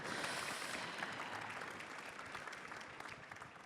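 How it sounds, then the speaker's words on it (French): Audience applause, a dense wash of many hands clapping that starts strong and slowly fades, heard from a little distance. "On peut vous applaudir, je pense, pour ce retour d'expérience."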